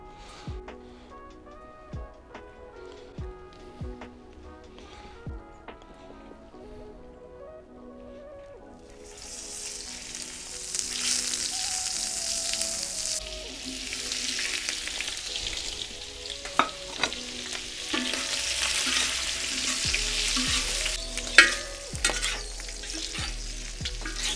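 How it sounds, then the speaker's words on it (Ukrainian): Sausages frying in a pan of oil and butter: a quiet start with soft stirring, then a steady, loud crackling sizzle from about nine seconds on, with occasional sharp pops and utensil scrapes, no talk. "трохи олійки, трохи вершкового масла і підсмажимо сосиски"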